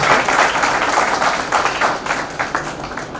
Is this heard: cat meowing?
no